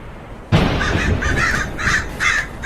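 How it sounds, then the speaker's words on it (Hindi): Crows in a cartoon caw loudly and repeatedly in a rapid, close series of harsh calls, one after another, with no talk over them. "कौवे कांव कांव करके चिल्लाए"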